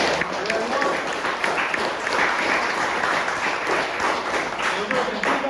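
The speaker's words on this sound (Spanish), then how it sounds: "Aplauso al Señor." Church congregation applauding during a Spanish-language worship service, a loud sustained burst of many hands clapping with some cheering voices mixed in throughout.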